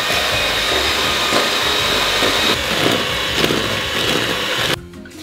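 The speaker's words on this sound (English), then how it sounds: "we're going to beat our softened butter and caster sugar together until it's light and fluffy" Softened butter and caster sugar beaten together by an electric mixer, a steady loud whirring drone that runs without a break and cuts off abruptly near the end.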